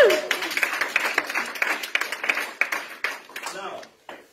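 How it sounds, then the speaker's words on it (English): A seminar audience claps for a woman, a brief round of applause that starts strong and thins out over four seconds, with a voice near the end. "Come on, give her a round of applause."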